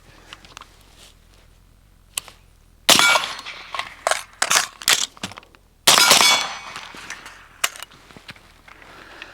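An MK18 Block II AR rifle fires during close-range shooting drills: two loud, sharp reports, each followed by a burst of clattering metallic impacts, with softer ticks and clicks in the quiet gaps.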